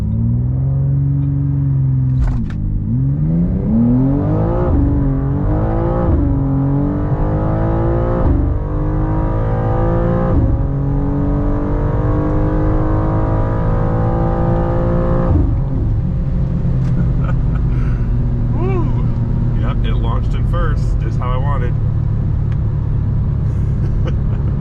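A BMW M2 CS, G87 generation with a performance tune, launches hard from a standstill and pulls through several rising engine sweeps with gear-change breaks, loud and close, ending in a steady cruising drone with no talk.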